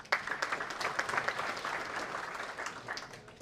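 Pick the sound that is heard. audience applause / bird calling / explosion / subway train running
audience applause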